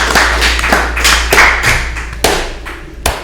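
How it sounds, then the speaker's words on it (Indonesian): Hands clap at a school interview with a student council chair and deputy, a short uneven burst of loud sharp claps from a small group, alone without talk. "Tepuk tangan."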